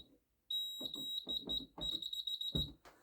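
A high, steady electronic alarm panel buzzer sounds continuously, with a few brief gaps, over rustling and unboxing handling noise.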